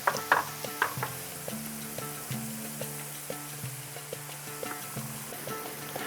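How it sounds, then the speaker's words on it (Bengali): Pitha fry in a pan over a medium flame, a soft steady sizzle with clinks and scrapes from stirring, quiet and close, with no one speaking. "আমি মোটামুটি 3 থেকে 4 মিনিট এইভাবে মিডিয়াম ফ্লেমে রেখে ভেজে নিয়েছি"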